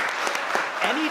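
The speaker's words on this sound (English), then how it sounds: "One more round of applause." Applause from an audience at a 2020 virtual arts gala, a steady wash of clapping that holds for the whole short stretch, with a faint voice breaking through near the end.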